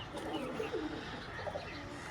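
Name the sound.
pigeons cooing in a pigeon shop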